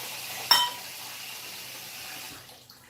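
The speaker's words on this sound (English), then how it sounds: "I'm just going to give these lentils a little bit of a rinse quick here." Running water pours into a container as lentils are rinsed, starting with a sharp clink and then a steady close splash and rush of tap water that fades out near the end.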